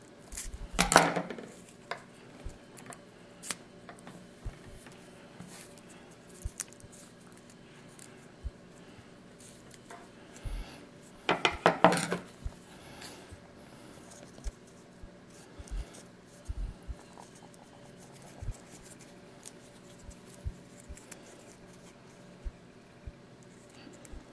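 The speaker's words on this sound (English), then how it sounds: "I'm going to hollow out this inside spike that I made. Just cutting a notch out of that." Scissors snipping a notch into a folded paper snowflake, two brief crisp cutting bursts spaced far apart amid quiet rustling and faint handling noise.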